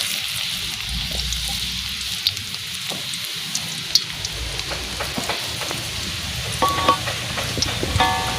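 Garlic dropped into hot oil, sizzling steadily with crackling pops, recorded outdoors at a rustic hut over a continuous hissing bed, moderately close, with sporadic sharper spatters and no talking.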